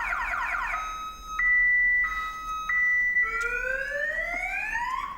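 An aftermarket car alarm on a blinged-up banger being stripped in a workshop, cycling through loud electronic warble, steady two-tone and rising whoop patterns, repeating continuously and close.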